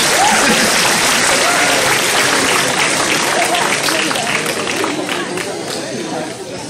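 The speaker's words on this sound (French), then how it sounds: "Sous les applaudissements nourris du public." A school ceremony audience applauds heavily as pupils are called up to the stage, with a loud, sustained wash of clapping mixed with crowd chatter that tapers off slightly toward the end.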